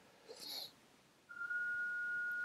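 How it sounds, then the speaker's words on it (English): A singing toilet gives off a thin, steady high whistle that starts partway through and holds faintly in the background of a quiet room, after a brief breathy sound. "And my toilet is singing, so you can probably hear that in the background."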